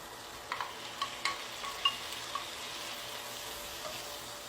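Chicken cubes sautéing in a pan with softened onion and garlic, a quiet steady sizzle broken by several soft stirring clicks and taps, no voices.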